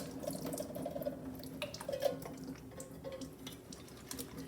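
Liquid draining from a can of pineapple in a kitchen, a soft, continuous trickle with small drips and splashes, fairly quiet and steady, with no talking.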